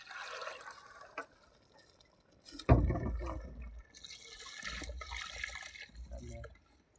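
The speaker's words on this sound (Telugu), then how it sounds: "నీళ్ళు ఎంత కావాలి అంత వేసుకోండిపా" Water poured onto rice in a pot for chicken biryani at a camp, heard as bursts of splashing and filling with a sharp knock midway, close and fairly quiet with no talking.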